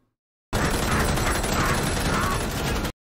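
Sustained light machine gun fire from a movie scene comes as a dense, loud continuous burst lasting over two seconds, then stops abruptly.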